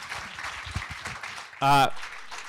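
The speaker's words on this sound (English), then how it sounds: "Can we have an honorary round of applause for Ross Sutherland," Applause from a film-night audience in a room, a diffuse round of clapping that carries through the clip with a brief harmonic whoop or cheer near the middle.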